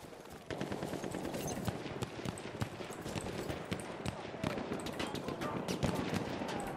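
Gunfire in a Battlefield 1 match while a player snipes, heard as dense, loud, continuous battle shooting with sharp cracks throughout.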